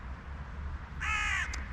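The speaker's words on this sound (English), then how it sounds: "someone scared the birds here" Crows caw in a brief loud burst of several harsh calls over steady low outdoor rumble during an evening bird feeding, with one short extra call trailing after.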